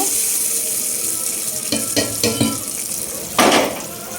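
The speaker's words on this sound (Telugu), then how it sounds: "పోపు వేసేసుకుందామండి పప్పులో" Tempering poured into a pot of raw mango dal, a brief sharp sizzle flaring up near the end after a few clinks of utensils, over a steady broadband kitchen hiss.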